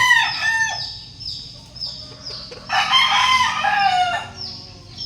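Black mackerel gamefowl roosters crowing repeatedly alongside clucking hens, several loud, clear crows rising and falling over a quiet farmyard background.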